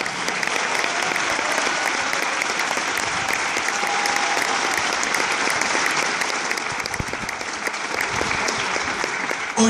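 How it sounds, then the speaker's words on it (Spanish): A congregation at an evangelistic campaign service in El Tigre gives sustained, loud applause, dense even clapping for nearly ten seconds with a brief faint tone partway through. "Dale ese aplauso al Rey."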